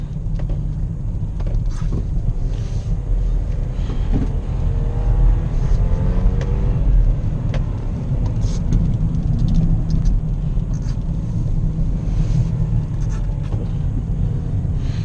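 An F25 BMW X3 SUV drops down a few gears while cornering, its engine a steady low drone heard from inside the cabin with faint mechanical ticks and no talking.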